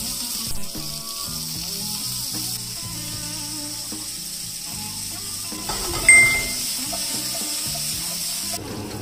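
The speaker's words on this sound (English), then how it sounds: "let's warm up our pan with a lightly oil and let's roast it on the top" Beef searing in a lightly oiled hot pan, a steady broad sizzle running throughout with a few brief clinks and a short louder burst partway through, no talking.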